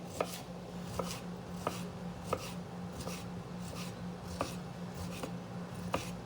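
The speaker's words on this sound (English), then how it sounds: "you can slice up as many of these as you want for as many pickles as you like on your sandwich" A knife slices pickles on a cutting board for a fried shrimp po'boy, sharp evenly spaced chops landing about once every second over a quiet kitchen background, close and clear with no talking.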